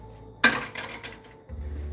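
A pan comes off the heat while shrimp tacos are being assembled, giving one sharp metallic clatter and scrape of cookware, followed by a short rattle and then a low steady hum.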